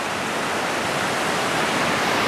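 Mountain stream in the San Gabriel Mountains running steadily down an eroded three-foot bed toward the East Fork, a continuous broadband rush of water heard close and alone without pauses.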